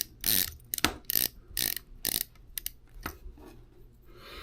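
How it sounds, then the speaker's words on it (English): Torx screws being driven into a key fob surround with a small screwdriver, short bursts of close, quiet ratcheting and scraping clicks separated by brief pauses. "now we'll go ahead and put in the 3 screws, our Torx screws"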